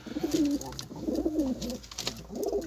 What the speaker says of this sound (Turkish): Bunlar hep oyun kuşu